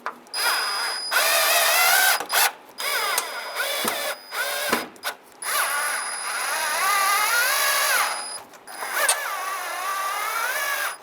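A power drill runs in repeated bursts, tightening the chrome grille screws on a 1992-1996 Ford F-150, with whining motor tones rising and falling and short pauses between each screw, close and loud.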